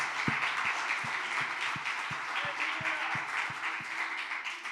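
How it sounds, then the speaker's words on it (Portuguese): A church congregation applauds in a continuous wash of clapping, with a few louder, regularly spaced claps standing out near the front, moderately loud and without speech. "Você pode dar um aplauso pela palavra de Deus,"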